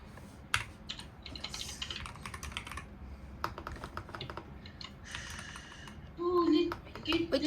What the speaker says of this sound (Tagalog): Ba't nagtatype ako ng ganito?